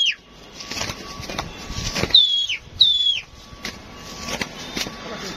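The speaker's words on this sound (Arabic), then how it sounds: "حمام داخل اهو." Pigeons flying in to a rooftop loft, bursts of flapping wings close by amid bird whistles and sharp chirps, with people talking nearby.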